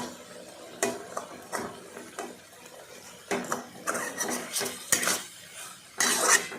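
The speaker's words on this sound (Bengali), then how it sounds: "জল দিয়ে নাড়াচাড়া করলাম, ভালো করে করা হলো।" A spoon scrapes and clinks against a pan while an egg and bean curry is stirred with a little water, in irregular bursts of close metallic knocks and scrapes.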